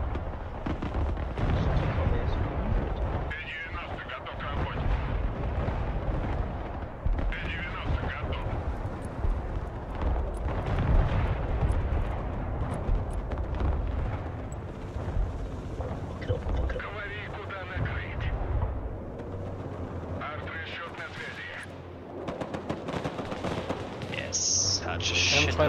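Artillery fire in the video game Broken Arrow, a series of heavy booming blasts and rumbling impacts spread through the stretch, mixed with battle noise, while a person talks over them.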